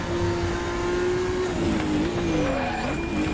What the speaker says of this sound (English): The four-wheel drive slide kicking in.